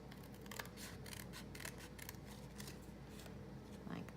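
Scissors trim a paper card, a quiet series of crisp rhythmic snips in quick succession, close to the listener, with some faint handling sounds.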